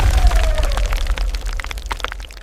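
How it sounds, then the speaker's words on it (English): A violent blast of steam as the first liquid water strikes the primordial crust: a loud, dense roaring burst of crackling and popping over a deep rumble, sustained throughout without any voice. "The first drop of liquid water touches the primordial crust. A violent explosion of steam, but the rock has finally been broken."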